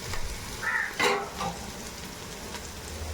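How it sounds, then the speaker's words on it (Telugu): Ginger-garlic paste frying in a pan with onions, curry leaves and bay leaf for a country chicken curry, giving a soft steady sizzle with a few brief louder crackles and stirring scrapes, close by. "అలాగే కొంచెం అల్లం వెల్లుల్లిపాయ వాసన పోయేంత వరకు వేగించుకుంటాను"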